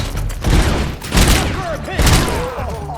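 Gunfire in the RoboCop: Unfinished Business video game rings out as several loud, close bursts of shots with booming impacts, with someone talking over them.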